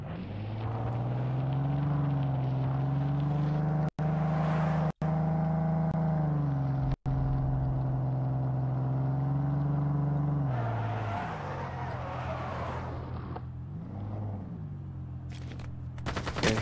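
A vehicle driving in the video game Ring of Elysium gives a steady, loud engine drone with strong low harmonics that holds for about eleven seconds, then drops to a rougher, quieter idle with scattered clatter.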